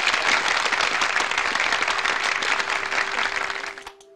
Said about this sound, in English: Claps for Ansiv